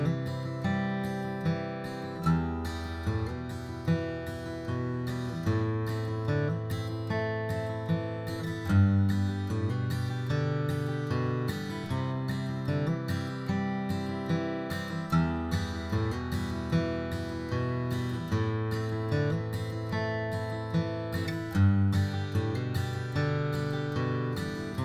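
Bluegrass rhythm guitar cycling through four chords including G, with alternating bass notes and strummed chords in a steady, bouncy rhythm, close and clear with no talking.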